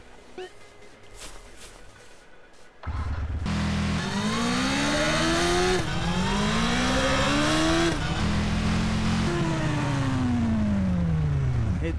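Car engines in GTA San Andreas, modded with GTA V engine sounds, rev up and down in rising and falling sweeps after a sudden start, loud and close, with occasional speech underneath.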